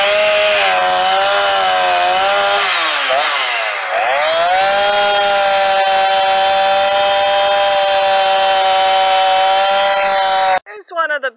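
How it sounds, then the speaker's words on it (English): A chainsaw cutting back brush in an Alaskan yard drones loudly and steadily, its engine pitch dipping briefly under load before holding a high whine, then cutting off abruptly at the end. "the chainsaw was giving them trouble"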